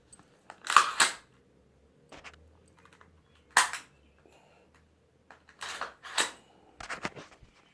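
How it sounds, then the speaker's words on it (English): Dry-fire trigger clicks from a CZ P09 pistol, with several sharp, close mechanical snaps in small clusters and quiet handling noise between them. "I wanted to show you at this point where the trigger resets"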